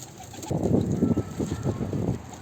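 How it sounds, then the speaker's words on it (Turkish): Pigeons coo steadily and close by inside a loft, a dense overlapping chorus of low throaty calls that fills the whole stretch. "Şu an bütün kuşları çıkardım."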